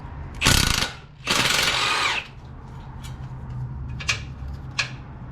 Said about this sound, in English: I'm going to use my impact to do this just to make things easy